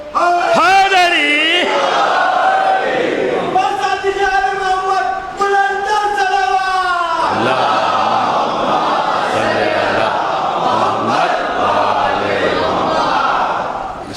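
A crowd at a Shia majlis chanting the Naara-e-Haidari slogan, loud voices calling out in unison with a lead voice, sustained and close with reverberant crowd noise throughout.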